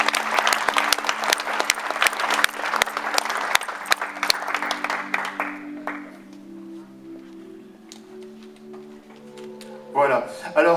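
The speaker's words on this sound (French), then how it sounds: "Vous pouvez l'applaudir" Indoor audience at a Christian bikers' gathering claps loudly and densely for several seconds, then the applause fades out and gives way to quieter room sound before a brief burst at the end.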